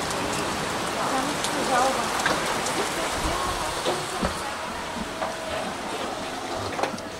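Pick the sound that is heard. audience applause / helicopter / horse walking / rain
rain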